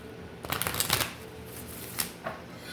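Tarot cards are shuffled up close in a couple of quick riffling bursts, crisp papery flutters followed by a few softer taps, with no talk.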